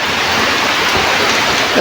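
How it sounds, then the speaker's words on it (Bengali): Heavy rain pours down in a loud, unbroken hiss, close and steady throughout with no voices. "ভালো বৃষ্টি হচ্ছে মাটিও কেটে যাচ্ছে"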